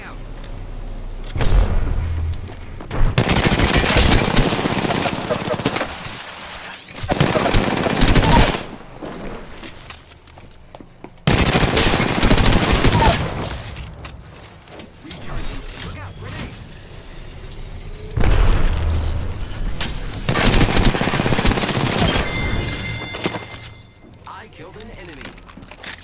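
Apex Legends match: long, loud bursts of automatic weapon fire and explosive impacts from a frag grenade, alternating with quieter stretches, while a player talks over the action.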